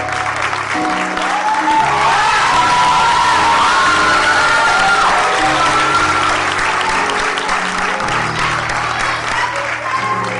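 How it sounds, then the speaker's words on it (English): Loud, sustained applause fills the hall for two praise dancers at a community festival stage show, with whoops and cheers rising over the clapping and some crowd voices mixed in throughout. "let's give another round of applause for our two praise dancers"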